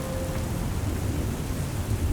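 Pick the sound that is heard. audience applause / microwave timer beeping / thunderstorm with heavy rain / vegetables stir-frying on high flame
thunderstorm with heavy rain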